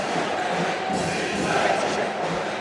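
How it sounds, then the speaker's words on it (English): A basketball crowd at a Junior MPBL D-League finals game roars in a dense, continuous wash of many voices, loud and reverberant in a large arena, with chanting blended into the noise. "We're hearing defense chants from the crowd."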